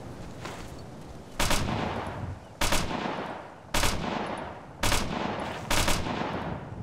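Rifle and machine-gun fire in Operation Flashpoint, aimed at an enemy support gunner: five loud, separate bursts of shots at roughly one-second gaps over a continuous background rumble.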